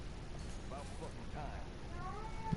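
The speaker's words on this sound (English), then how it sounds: "This cat's meowing." A cat meows a few times, faint and wavering, over a steady low background hum.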